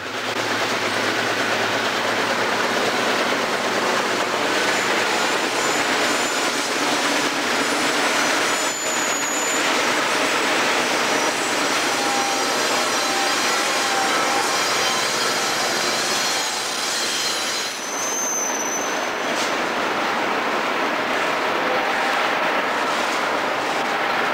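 An eastbound Santa Fe freight led by an SD45 locomotive rolls around the Tehachapi Loop, a continuous broadband rumble with wheel squeal and rail clatter, steady and fairly loud throughout.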